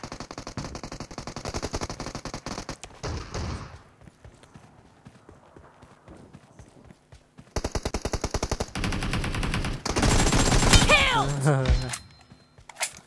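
Gunfire in a shooting video game, with rapid bursts of automatic fire and single shots coming in clusters, loud and close, mixed with game effects and someone talking over parts of it.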